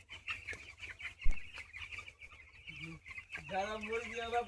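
Chickens cluck and murmur throughout a poultry farm housing about 2,600 birds, a dense chorus of nearby and distant calls, while a person speaks over it.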